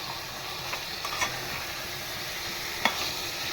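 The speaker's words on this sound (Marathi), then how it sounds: "छान असं तेलामध्ये या पोळी मस्तपैकी परतवून घेतो आहे" Vade flatbread fries in oil in a pressure cooker, a quiet, steady sizzling hiss with a few faint taps scattered through it.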